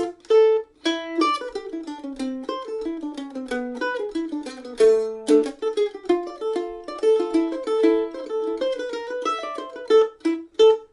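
Mandolin alone plays the B part of the Brazilian choro tune Não me Toques, a busy run of bright plucked notes with a lilting syncopated rhythm over a moving bass line, close and clear throughout.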